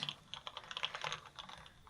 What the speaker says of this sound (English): I'm just putting them back in their case so that I don't lose them.